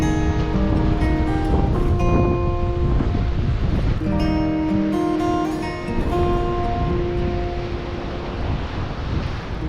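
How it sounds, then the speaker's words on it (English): Strong wind buffeting outdoors by the sea, a rough continuous roar with gusty swells, mixed with tonal whistling or humming and surf-like rumble, no speech. "it's windy out here"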